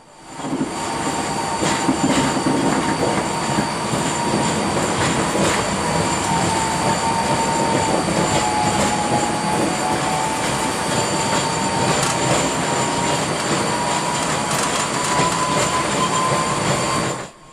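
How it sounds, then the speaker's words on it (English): Steady rumble of a Portland Streetcar on the North-South line rolling along rails, with a continuous low drone, faint wheel squeal and clatter throughout, no voices. "Welcome aboard the Portland Streetcar."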